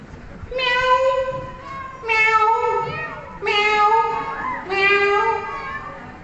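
A voice mimics two tomcats fighting, yowling at each other: four long drawn-out meows with wavering pitch, loud and close, separated by short pauses.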